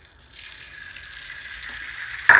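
An egg fries in a large frying pan with flour sprinkled around it, making a steady close sizzling hiss that slowly builds before a sharper burst near the end.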